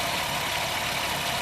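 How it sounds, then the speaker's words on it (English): A steady engine drone from a 2007 Jeep Wrangler Unlimited X with a grinding fault that shows up when stopped or driven at low RPM. It holds loud and continuous with a rough mid-range texture and no pauses, and nobody speaks. "that is the most god-awful weird sound, especially when you're driving at slow RPM"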